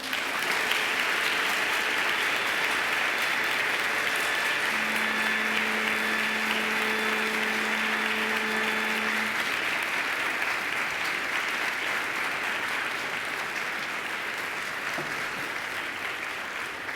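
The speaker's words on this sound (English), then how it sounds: "I invite you to give them a mighty round of applause" A graduation ceremony audience of families and friends claps in a long, dense, even round of applause that fills the hall and slowly tapers near the end.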